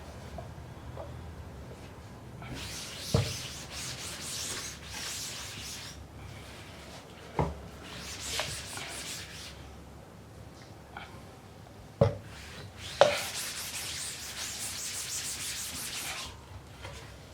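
Wet rubbing and polishing of a screen-printing stencil, several bursts of soft hissing scrubbing with pauses between and a few sharp knocks, fairly quiet and without talk.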